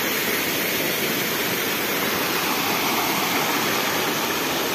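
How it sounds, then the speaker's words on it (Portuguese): A waterfall in the Brazilian sertão pours into a deep pool, a loud, constant broadband rush of falling water close by with no break. "Olha só a cachoeira aqui"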